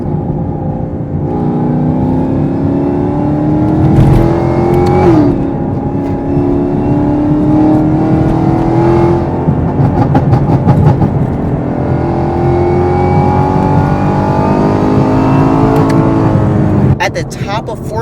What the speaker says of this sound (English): It just makes the supercharger so much more audible.